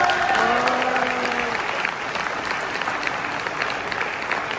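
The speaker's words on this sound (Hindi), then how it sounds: "तीन में ताली बजाओ।" A large audience applauds at a live business training event in India, with dense, steady clapping that fills the whole stretch, loud and close, fading slightly toward the end.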